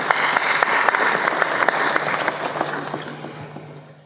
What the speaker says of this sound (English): a round of applause for Mrs. Kampila